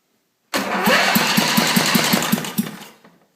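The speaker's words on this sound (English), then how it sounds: "it's turning over a lot harder, and it sounds good when I run it by the starter now too" A wood chipper's small engine cranks over on its electric starter for about two and a half seconds, with a rapid rhythmic chugging of compression pulses before it winds down, loud and close with no voices.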